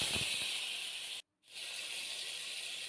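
Ginger, green chili and tomato paste sizzle in hot mustard oil with asafoetida, making a loud, continuous hiss that cuts out briefly and then resumes.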